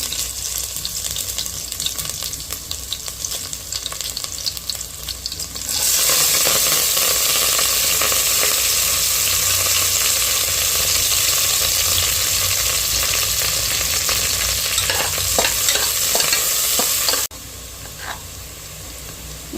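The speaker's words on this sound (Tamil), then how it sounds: "வெங்காயம் நல்லா வதங்கிடுச்சுப்பா." Onions fry in sesame oil with fennel and garlic for crab soup, a loud, dense sizzle close to the pan that swells sharply mid-way, holds steady, then drops back to a quieter crackle.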